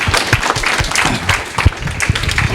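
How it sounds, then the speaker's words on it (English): Applause from a summit audience for debate panelists, a steady dense patter of many hands clapping throughout at moderate loudness, with no voices standing out above it. "Please give a round of applause to these guys again."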